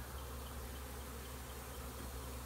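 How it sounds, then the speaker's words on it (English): A dense swarm of honeybees hums steadily as the insects settle and march into a trap box, a continuous, even buzz filling the whole stretch with no voices. "There's bees everywhere. Just a cloud of bees."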